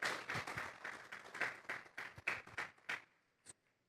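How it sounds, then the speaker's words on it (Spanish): A church congregation applauds in a quick burst of fairly faint, irregular clapping that thins out to a last lone clap. "Vamos a regalarle ofrenda de palmas"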